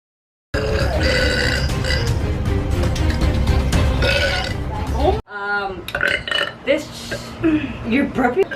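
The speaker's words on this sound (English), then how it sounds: "You're burping?" A woman lets out a series of deep, drawn-out burps, loud and close, following a burst of dense, loud sound at the start; later burps come in short irregular bursts.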